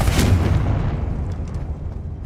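Confringo fire spell explosion from Hogwarts Legacy: a loud, booming burst at the start that rolls off into a low rumbling tail.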